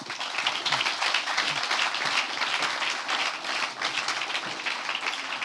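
Dense, loud applause fills a hall at a venture prize pitch night as the audience cheers all eight competing teams, a continuous wash of many hands clapping with no gaps.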